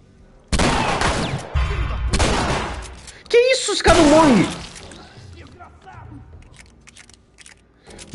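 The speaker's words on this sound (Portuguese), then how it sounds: "eu dei 3 tiros de 12 queima-roupa" Several loud, sharp point-blank shotgun blasts in The Last of Us on PS5, a few booming bursts in quick succession with clattering effects, followed by quieter game sounds.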